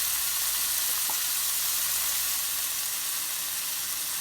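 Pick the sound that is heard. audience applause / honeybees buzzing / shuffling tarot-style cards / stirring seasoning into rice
stirring seasoning into rice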